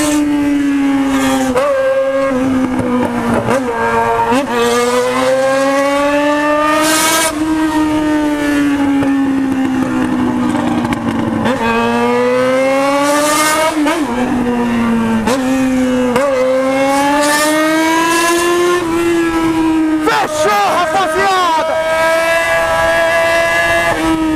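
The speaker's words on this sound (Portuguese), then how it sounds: "O dono do XJ assim, não tem escape" A Jaguar XJ running with no exhaust revs hard and loud, its engine note swooping up and down over and over in a continuous roar with no break.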